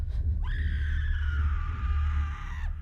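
A single long scream, a sustained high wavering cry that holds for about two seconds and then cuts off, set over a low rumbling ambient drone with no other voices.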